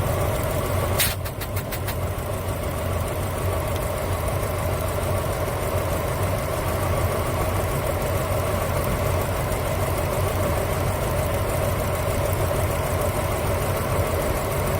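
Car engine idling steadily through a running compression test, a constant close hum with a faint uneven knock running throughout; a brief clicking burst occurs early on.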